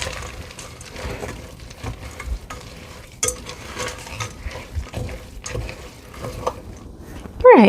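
Thick orange cookie dough gets stirred with chocolate chips, giving soft, close, uneven scraping and squelching strokes at an irregular rhythm, with a sharper clunk now and then.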